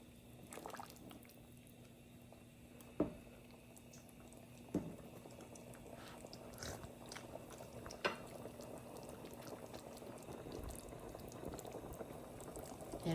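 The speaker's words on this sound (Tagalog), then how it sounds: "Hayaan mo lang siyang kumulo ng kumulo." Water boiling in a pot of sautéed patola with mushroom and shrimp, a close, steady low bubbling and gurgling with a few sharper pops standing out from the simmer.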